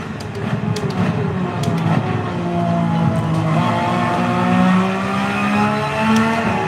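Ferrari 599XX race car screaming at full throttle in Gran Turismo 7, a high rising engine note climbing through the revs with brief gear-change dips, loud and sustained down a straight.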